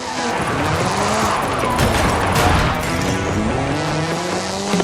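Ken Block's Hoonigan Gymkhana 10 Ford Focus RSRX, a 2-litre turbocharged front-engined all-wheel-drive car, drifting in Forza Horizon 5: a loud, continuous engine roar with squealing tires that holds steady throughout.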